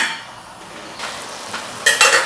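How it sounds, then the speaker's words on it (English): Rice being stirred into chicken pilau in a pot, soft sizzling and quiet scraping that grows into a couple of louder clinks of a spoon against the pot near the end. "After adding the rice, I'm going to give it a stir."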